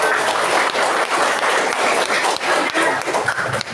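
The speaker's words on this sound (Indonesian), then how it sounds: "tepuk tangan untuk kelas" A classroom full of people claps steadily and briskly for a few seconds, dense and close, with no talking over it.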